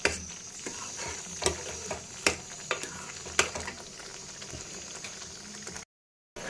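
A ladle stirs thick white pumpkin halwa in a pan, giving several sharp scrapes and knocks over a low bubbling sizzle, close by and without speech, before ending in a short silence.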